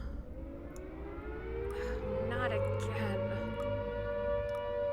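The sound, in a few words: air raid sirens in a video game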